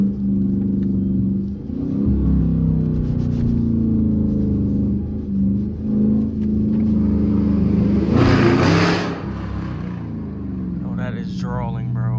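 A loud Dodge Charger R/T with a 5.7 V8 rumbles deeply and accelerates, with a close, heavy engine drone that surges in pitch. A brief harsh blast of noise comes partway through.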